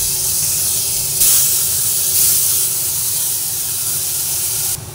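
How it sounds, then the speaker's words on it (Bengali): Onion hits hot oil over a lowered gas flame, giving a loud, continuous close sizzle and hiss that swells briefly a couple of times, with no speech. "তেলের মধ্যে প্রথমে গ্যাসের ফ্লেমটা একটু কমিয়ে নিয়ে পেঁয়াজ দিয়ে দিচ্ছি"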